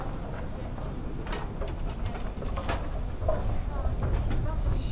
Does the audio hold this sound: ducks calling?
no